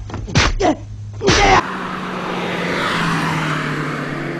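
A Lotus S1 with a Honda K20a engine drives on the road, giving a steady, loud cabin rumble with a low engine drone after a few short bursts of voice at the start.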